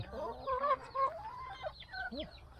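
Chickens cluck and squawk at feeding time in a garden, several birds calling close by in quick, uneven bursts over a quiet background, with no talking.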